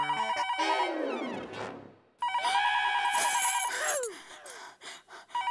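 A telephone rings with a loud, busy jangling tone in two bursts, with a pause between them and a few quieter trailing sounds.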